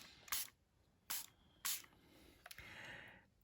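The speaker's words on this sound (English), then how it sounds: "I have this little spray bottle, and I'm just" A small spray bottle of water mists a colouring book page in three sharp, close hissing bursts, then a longer, softer spray trails off at the end.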